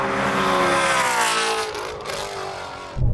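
A Porsche 911 and a Shelby GT350 Mustang in a drag race, engines roaring loud and sustained at high revs, fading slightly before a sharp thump at the end.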